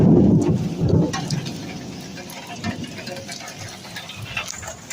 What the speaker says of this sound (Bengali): দারুণ বৃষ্টি হচ্ছে, দারুণ হচ্ছে।